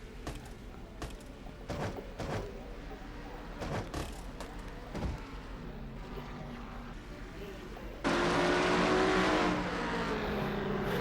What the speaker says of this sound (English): See the front three cars just up ahead as we ride with Joshua Collard now in fourth position.